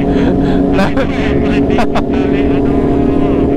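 A Kawasaki ZX25R motorcycle engine drones loudly and close with a throaty, sustained tone while people talk over it.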